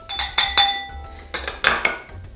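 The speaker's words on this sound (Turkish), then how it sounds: "Geriye kalan tereyağı ve vanilya hariç tüm malzemeyi bir arada karıştırıyorum" Egg yolks, whole eggs, sugar and starch whisked together in a bowl, with bright metallic clinks and taps of the whisk against the bowl rim coming in short close bursts.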